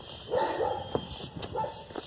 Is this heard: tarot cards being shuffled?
no